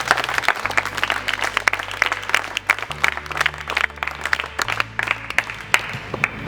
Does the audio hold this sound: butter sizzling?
no